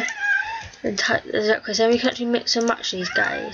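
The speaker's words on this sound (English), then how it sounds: "apologies if you can hear my cat meowing." A pet cat meows repeatedly indoors, several clear drawn-out cries close to the microphone, overlapping with someone talking throughout.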